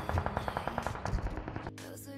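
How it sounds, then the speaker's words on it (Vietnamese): Rapid bursts of automatic gunfire from players shooting each other in a video game, a steady rattling stream of shots that stops abruptly near the end, loud and close. "Tụi rảnh thì ở đây bắn nhau."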